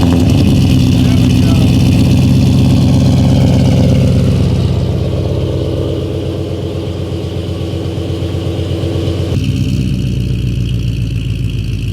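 A Ford Mustang GT engine idles close by, a loud steady mechanical drone with a slight drop in pitch partway through and a sharper shift near the end.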